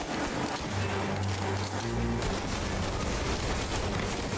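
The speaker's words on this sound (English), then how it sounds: "Trying to hit this guy with a pistol." Pistol fire in Mafia Definitive Edition, a loud cluster of gunshots from a close-range shootout with deep booming tails and steady game noise underneath, no talking.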